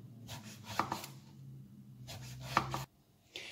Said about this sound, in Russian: Нарезаем баклажаны колечками